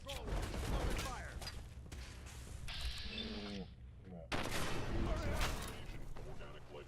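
Bursts of gunfire in the Fallout 4 video game, several sharp shots and rattling volleys with booming impacts, interrupted by a brief quieter gap, mixed with game sounds and voices.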